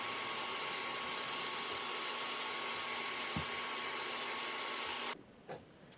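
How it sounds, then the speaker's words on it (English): A power sander runs steadily, flattening cured resin on a river-pour charcuterie board, a loud continuous whirring buzz with faint scraping underneath that cuts off abruptly near the end, leaving a quiet room. "And here using a sander to sand those flat."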